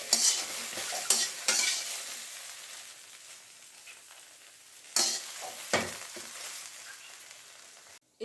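Okra stir-fried in a pan sizzles softly and steadily, broken by several sharp scrapes and clatters of a spatula against the metal, close and fairly quiet with no talking.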